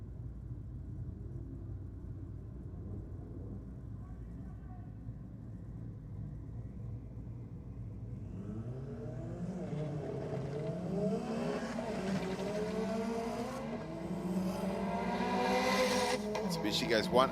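A Mitsubishi ute launches down a drag strip at Sydney Dragway, engine rumbling low at first and then climbing into a loud, rising rev with sweeping pitch as it accelerates away.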